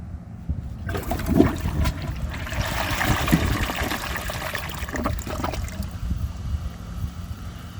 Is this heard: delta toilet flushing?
yes